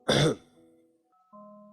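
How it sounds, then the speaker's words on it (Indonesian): A single harsh throat-clearing cough from a woman in a conference audience bursts out up close, then fades into a faint low hum with a brief steady tone afterward. "Kalau betul, tolong yang perempuan batuk."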